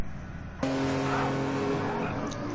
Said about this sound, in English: Doing burnouts in a tunnel.